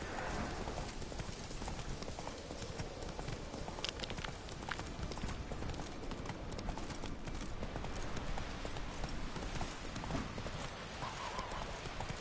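Horse hooves gallop in The Witcher 3 on PS4, a quick even clip-clop that runs without a break under a dense, loud game soundscape.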